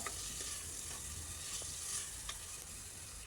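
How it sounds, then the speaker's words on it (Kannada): Chopped tomatoes frying in a pan for pulao, giving a steady close sizzle with a few light scrapes of stirring and no talk. "ನೋಡಿ, ಈ ಥರ ನೀಟಾಗಿ ಫ್ರೈ ಮಾಡ್ಕೊತೀನಿ"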